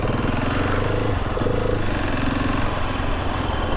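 Husqvarna 701 Supermoto motorcycle engine running steadily while being ridden, a loud continuous single-cylinder drone with shifting pitch as the throttle is eased on and off, close and unbroken throughout.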